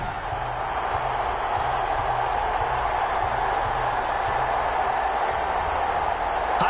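Stadium crowd at an NFL game between the Kansas City Chiefs and Las Vegas Raiders in a football video game, a dense continuous roar with a commentator's voice talking over it.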